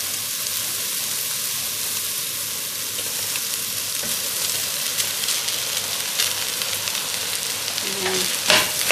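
Cooked rice is stir-fried in a hot pan with a loud continuous sizzle and hiss and scraping as it is tossed, and a sharper clatter near the end.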